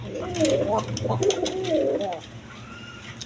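White Danish pigeons coo close by in a loud series of soft, rolling calls lasting a few seconds, with a quieter call near the end. Someone talks alongside them.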